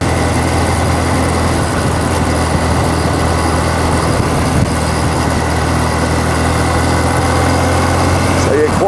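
A 1981 Suzuki Katana GSX1100S motorcycle engine runs steadily with a loud, even rumble and vibration throughout, never rising or falling.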